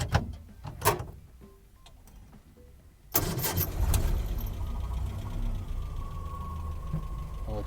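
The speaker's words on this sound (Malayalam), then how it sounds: "ഒന്ന് സ്റ്റാർട്ട് ചെയ്യുമോ വണ്ടി?" An Ambassador car with its original MOWOG OHV engine cranks and catches after a few quiet clicks and knocks, then settles into a steady, smooth idle close by.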